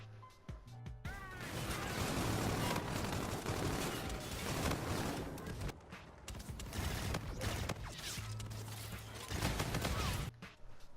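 Dense, continuous gunfire and impacts in the first-person shooter Call of Duty: Infinite Warfare, sustained bursts over most of the stretch with brief pauses, heard at moderate loudness within busy game sounds.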